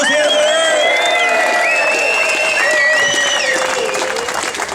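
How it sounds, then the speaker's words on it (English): A rally crowd claps steadily at a union event, dense applause with scattered whoops and cheers close by, fading slightly toward the end. "Can we give it another round of applause here?"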